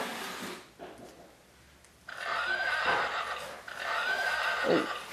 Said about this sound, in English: That horse was neighing.